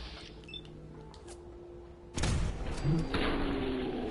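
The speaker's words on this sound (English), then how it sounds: "the very, very, very satisfying explosion into a cloud of ashes" An enemy bursts into a cloud of ash in Fallout 4 survival mode: a sudden heavy thump erupts after quiet ambience, followed by a sustained crackling hiss that fades slowly.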